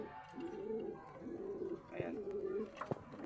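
Soft, low cooing from a racing pigeon repeats in throaty phrases, close by, with a few faint clicks and rustles.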